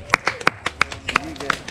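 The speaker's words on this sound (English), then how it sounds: "a round of applause for all of them" Sparse clapping from a small audience congratulating new instructors, a handful of sharp individual claps at an uneven rhythm, close by, with voices speaking over them.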